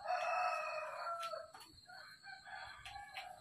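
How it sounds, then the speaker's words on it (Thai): A native Thai black chicken rooster crows loudly and close by in one long call, with a few softer clucks and bird calls following. "ไก่ดำพันธุ์พื้นเมืองอยากเอาไปเลี้ยงไปขาย"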